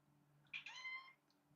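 A cat lets out a single drawn-out meow, quiet and fairly close, over a low steady indoor hum.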